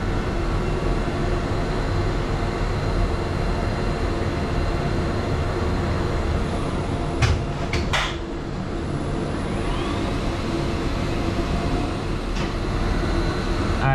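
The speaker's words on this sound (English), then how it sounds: "excuse the noise. We're in the elevator machine room." A steady, loud mechanical roar with a constant hum fills an elevator machine room, continuous and close with no talking.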